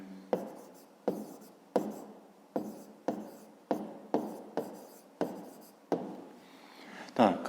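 Pen or pencil writing by hand on paper while working through a fifth-grade maths exercise, heard as a steady run of about ten short scratchy strokes, each starting with a tap, close and fairly quiet, with no talk.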